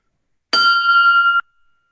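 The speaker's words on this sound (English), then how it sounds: "can I just sound check the big bell to make sure everyone can hear it?" A big school bell struck once for a sound check, ringing loud and close with a bright sustained tone that decays after about a second.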